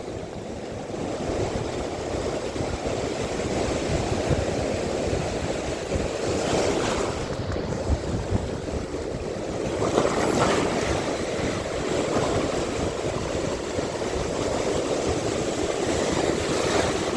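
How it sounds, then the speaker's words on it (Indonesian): Large ocean waves break against the shore during casting for fish, a steady loud roar of surf and spray with wind buffeting the microphone, continuous throughout and with no talk. "Tapi ombaknya ini lumayan besar kon."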